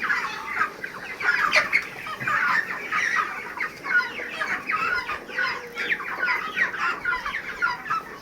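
Flock of chickens clucking continuously in a poultry farm, many overlapping close and mid-distance calls in an uneven chatter, without talk.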